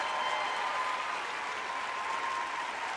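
Sustained applause and cheering from a stand-up comedy audience in Atlanta saluting the night's comedians, a thick, unbroken roar of clapping from the whole room that never drops.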